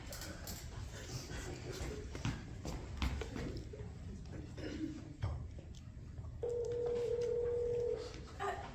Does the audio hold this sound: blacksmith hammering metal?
no